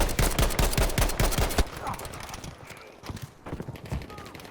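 Gewehr 43 rifle fire in Battlefield V: a quick burst of loud semi-automatic shots, then a quieter stretch with a few scattered later shots and other game sounds.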